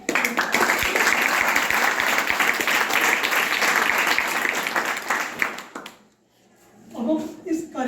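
An audience of teachers and students at a school motivational talk applauds the organizers with loud, sustained clapping that fades out, then a voice begins speaking.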